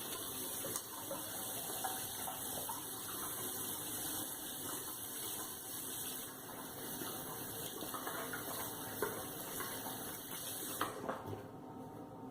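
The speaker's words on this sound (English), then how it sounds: "the first step is going to be washing your hands" Hands are washed under a running tap, making a quiet, steady stream of water that splashes softly and cuts off just before the end.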